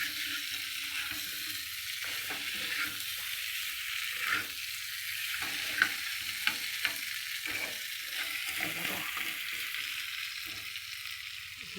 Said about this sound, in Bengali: দেখো মাংসটা ভালো করে কষিয়ে নেবো